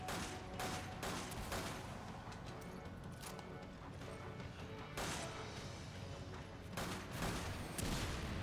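Gunfire in Resident Evil 5 co-op play: a busy run of sharp shots, some in quick clusters, over a steady din of game noise.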